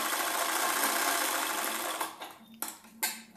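Close, steady whir of a sewing machine stitching around the edge of fabric for a latkan flower, a long continuous run followed by three brief, quick bursts.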